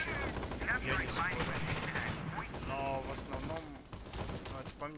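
Gunfire in the battle royale video game Crowz comes as rapid bursts of shots and cracking reports. Some sound close and others farther off, mixed with overlapping game sounds.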